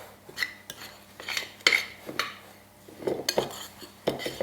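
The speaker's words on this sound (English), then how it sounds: "let's give that a little stir. Just mix those up together" Cake batter for a chocolate, beetroot and ginger cake is stirred in a bowl, giving irregular scraping strokes and clinks of a utensil against the bowl, close and moderately quiet, with no talk.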